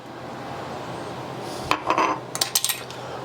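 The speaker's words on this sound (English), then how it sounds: "We're going to just give that a nice mix." A metal spoon clinks and scrapes against a bowl while stirring a sauce of sesame oil and minced garlic, a cluster of quick close taps after a quiet stretch of room hiss.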